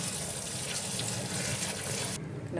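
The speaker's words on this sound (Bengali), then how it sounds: "এইভাবে চটকে চটকে আমি ধুয়ে নেব এগুলো" Thin slices of ash gourd squeezed and rinsed by hand in water, giving a continuous close splashing and sloshing that cuts off abruptly just before the end.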